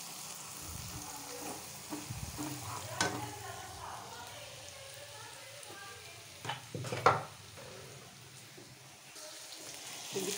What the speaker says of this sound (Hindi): लहसुन अदरक का पेस्ट डाल के थोड़ा सा इसको फ्राई कर लेती हूँ।